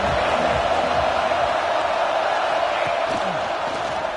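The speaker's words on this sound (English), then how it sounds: "This crowd ready to make its presence known." Stadium crowd noise in the College Football 26 video game, a dense, steady roar of fans that stays loud and continuous throughout, with no clear individual cheers standing out.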